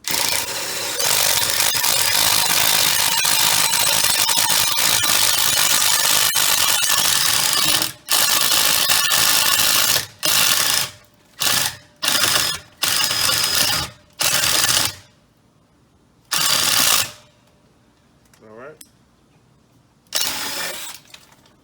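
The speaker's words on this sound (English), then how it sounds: "go ahead and start drilling" A power drill whirs steadily into wood, then runs in a series of short on-and-off bursts separated by brief silences.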